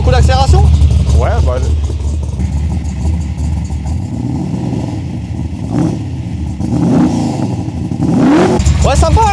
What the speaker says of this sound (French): Tu peux nous mettre 2-3 coups d'accélération?